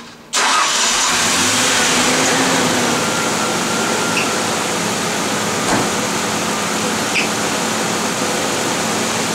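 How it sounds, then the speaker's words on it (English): A 1998-2000 Ford Ranger XLT with a 3.0L V6, fresh alternator installed, cranks and fires up loud and close, then settles into a steady idle with a couple of light revs. "start up the vehicle, make sure we're charging. Alright, let's start her up,"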